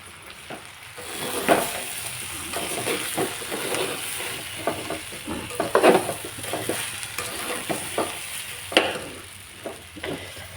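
Ingredients sizzle steadily in hot oil while a spoon stirs them, scraping the pan in irregular strokes with a few louder knocks, close up and continuous throughout.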